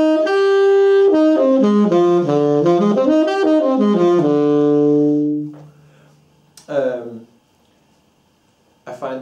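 An E half-diminished seventh chord extended to the 11th, played as a rolling, arpeggiated run of notes that settles into a sustained chord and fades, followed by a couple of brief speaking bursts.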